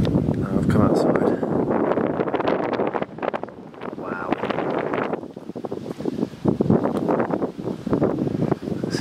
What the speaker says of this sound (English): It's howling. It's actually gone a bit less windy.